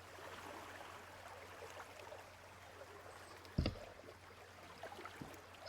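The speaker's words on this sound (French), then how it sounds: "Vous écoutez le bruit des vagues," Gentle water waves lap softly at a shore in a steady low wash, with one brief nearby splash or knock partway through; no voices.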